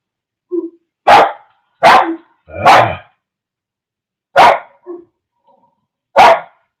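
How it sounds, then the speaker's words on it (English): Dogs bark loudly and close by in a series of six sharp barks at irregular intervals, with a few softer yips between them and no talking. "I'd love to know what you're barking at."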